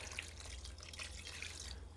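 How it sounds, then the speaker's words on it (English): About 1200 milliliters of water runs into a pot for cooking rice, a faint, steady trickle with a few small drips and splashes, heard alone under a low background hum. "we're going to be adding 1200 milliliters of water"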